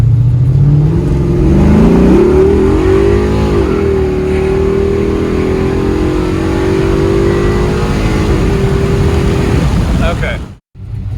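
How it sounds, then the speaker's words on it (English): A 1995 Impala SS with a big-cam 383 cubic-inch V8 accelerates hard in third gear, its engine note climbing steadily and loud from start to finish before cutting off sharply at the end. "I'm going to try to get to a third gear shift."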